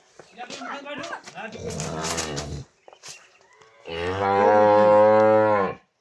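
Two long, loud moos from a large Holstein Friesian dairy cow close by, one around the middle and a deeper, sustained one near the end, with a person talking before them.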